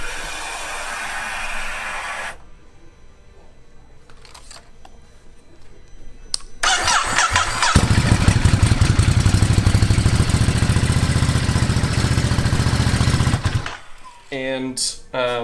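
A 2021 Ducati Monster 950 starts up after some quiet handling clatter, then its engine settles into a loud, steady idle with a deep rumble that runs for several seconds before cutting off abruptly, followed by brief talk.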